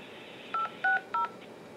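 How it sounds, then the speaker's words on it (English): Three short touchtone keypad tones from a phone dialing during an automated activation call, evenly spaced beeps, clear and close over a faint line hiss. "please enter the following number on your phone's touchtone pad"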